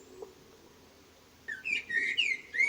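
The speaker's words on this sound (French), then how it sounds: "L'oiseau sautillait devant la porte en chantant à plein poumon." A blackbird sings in bright whistled phrases that rise and fall, coming in after a quiet stretch and repeating several times, close and clear.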